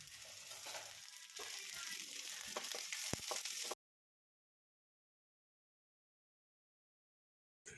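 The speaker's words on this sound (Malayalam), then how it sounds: "ഇപ്പോൾ ഉള്ളിമുളകൊക്കെ നല്ലപോലെ മൂത്തുണ്ട്" Onions and green chillies sizzle in hot coconut oil with curry leaves for a Kerala-style puzhukku, a steady close frying crackle with stirring that stops abruptly, leaving silence.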